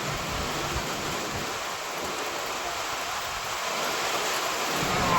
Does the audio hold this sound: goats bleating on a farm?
no